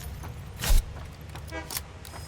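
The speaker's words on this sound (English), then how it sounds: "Honking." A vehicle horn in the Satisfactory video game gives short honks: a loud burst and then a briefer, tonal one, over a low, steady engine rumble.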